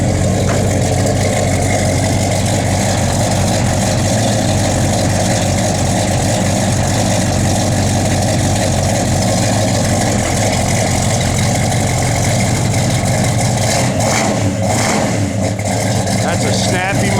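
A 1970 Chevrolet Chevelle SS V8 idles steadily and loudly up close, a continuous rumbling drone with a brief blip of revving near the end; someone talks over it.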